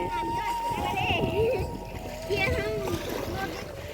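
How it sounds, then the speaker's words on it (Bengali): River waves slosh and splash around a boat on a wide river, a steady churning wash heard close, with people talking and a voice over it. "কি ঢেউ দেখেন নদীতে"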